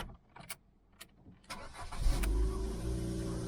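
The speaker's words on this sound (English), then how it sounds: "let's start it up so you can listen to the engine." Ford Fusion car starting up: a few faint clicks and cranking sounds in near silence, then the engine catches and settles into a steady, moderately loud idle close by.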